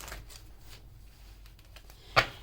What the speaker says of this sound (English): Let's shuffle that again.